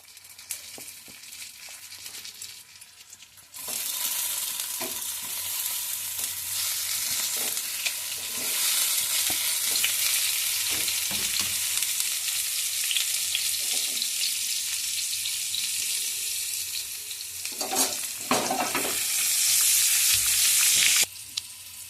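Potato pieces fry in hot mustard oil with a pinch of salt, a loud, dense sizzle that starts abruptly and holds steady for many seconds, with occasional scrapes and stirring clatter up close and no voices.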